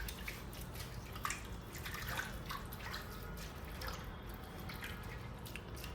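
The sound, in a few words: seaweed greens rubbed by hand in water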